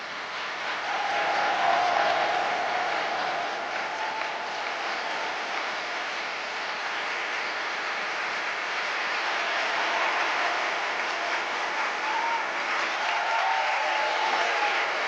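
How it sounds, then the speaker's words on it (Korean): A large standing audience at a lecture for public officials gives a long, warm round of applause as the president enters, a dense, even roar of clapping that holds steady throughout with no speech over it. "모두 일어나 뜨거운 환영의 박수로 맞아주시기 바랍니다."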